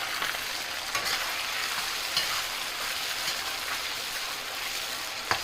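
Food stir-frying in a hot wok during a home cooking contest, a steady close sizzle with occasional scraping stirs and small clinks, alone with no talking.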